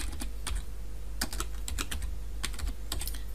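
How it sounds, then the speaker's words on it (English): Someone types on a computer keyboard in short bursts of sharp, close key clicks with pauses between them. A steady low hum sits underneath, and no one speaks. "So I'm going to type in the user's name,"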